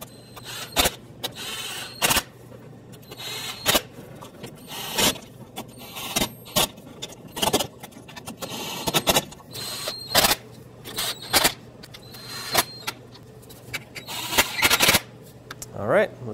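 Valve cover bolts being snugged down by hand on a Toyota Corolla, working from the center bolts outward: repeated short clicking ratchet bursts in an irregular rhythm, close and fairly quiet over a steady low hum.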